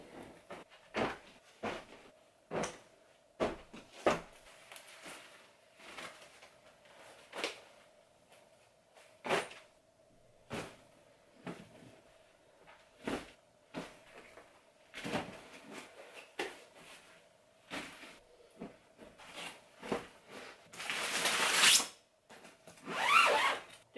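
Jacket pockets being emptied and a drawer cleared out: a sequence of short rustling, clicking and clattering handling sounds at irregular intervals, close and moderately quiet, with a louder rummaging burst near the end.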